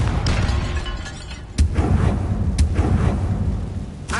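Confringo explosive spell in Hogwarts Legacy, a string of loud booming blasts, with sharp cracks at intervals, over a steady rumbling bed.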